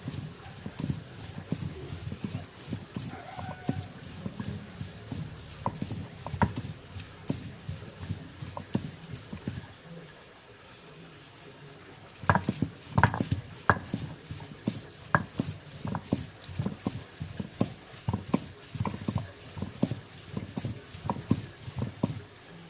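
Curry leaves ground by hand on a stone grinding slab (ammi), making rhythmic knocking and scraping strokes at close range. The strokes pause briefly midway, then resume stronger and steady.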